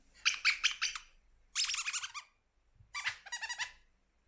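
A squeaky dog toy squeals in three separate bursts, each a quick run of shrill chirping squeaks with pauses between, clear and close.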